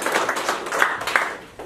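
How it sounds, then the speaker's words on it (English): An audience applauds event sponsors at a conference on AI and e-commerce, with a steady patter of many hands clapping at moderate volume and no voices over it. "I would like to hear a very big applause for them"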